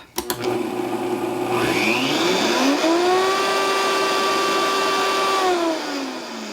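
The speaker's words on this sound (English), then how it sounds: "put that in a blender and just whirl it up" A blender motor spins up with a rising whine, blending salt-free popcorn seasoning, runs steadily at high speed for a few seconds, then winds down, loud and close.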